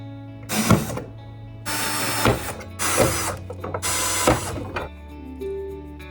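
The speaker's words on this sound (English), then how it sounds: "I'm going to start drilling some holes into the burner." A power drill bores holes into a metal burner for an ammo-can fire pit in four bursts of harsh grinding whine, each a second or so long, separated by brief pauses, close and loud.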